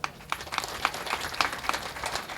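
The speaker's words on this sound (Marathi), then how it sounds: "सर्वांनी सर्व करता एकदा टाळ्या वाजव" At a kirtan gathering, an audience claps together in a steady, even rhythm, each clap a sharp beat, heard fairly faint and somewhat distant.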